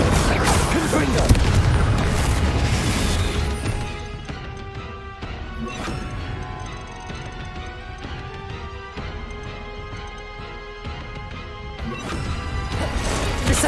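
Loud blasts and crashing explosions from fire-curse spells in the Hogwarts Legacy video game, a dense burst of booms fading into a rumbling, clattering tail before another bang, with a voice shouting over it.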